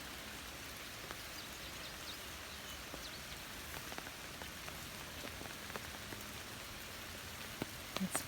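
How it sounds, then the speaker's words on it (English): Steady rain falls on a garden with flowers and a wire tower, a soft continuous hiss with scattered close drop taps, heard alone without voices. "It's peaceful just listening to it rain"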